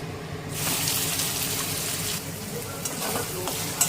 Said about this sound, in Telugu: ఆయిల్ హీట్ అయ్యాక ఆవాలు, జీలకర్ర, ఫైన్గా చాప్ చేసుకున్న ఆనియన్స్